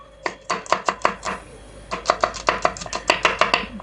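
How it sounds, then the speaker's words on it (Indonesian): A knife slices shallots on a cutting board in two quick, rhythmic runs of sharp, close taps with a brief pause between them. "Kita iris-iris juga untuk bawang merahnya."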